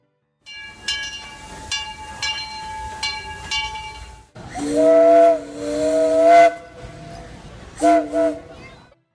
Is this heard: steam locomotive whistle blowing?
yes